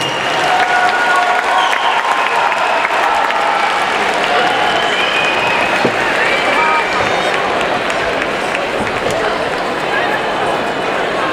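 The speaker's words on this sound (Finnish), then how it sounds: "Annetaan vielä aplodit." Audience applause after a church choir performance at a Finnish revival meeting, a sustained dense wave of clapping from a large crowd that holds steady throughout.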